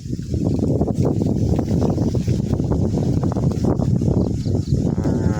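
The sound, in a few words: strong wind blowing outdoors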